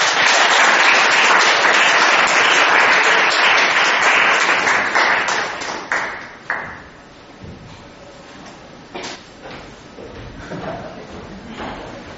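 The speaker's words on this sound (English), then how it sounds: "Please welcome our member with a huge round of applause" A large audience at an annual Korean traditional performance breaks into loud, dense applause that holds for several seconds, then thins out and fades to scattered claps and quiet room noise.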